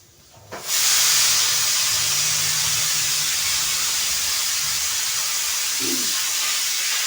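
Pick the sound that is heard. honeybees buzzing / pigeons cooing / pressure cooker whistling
pressure cooker whistling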